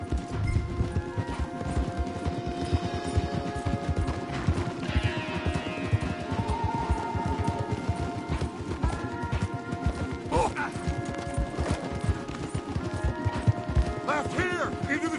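Horse hooves pound in a steady galloping rhythm in the video game Red Dead Redemption 2, with clattering and rumbling underneath, continuous throughout with some background tones.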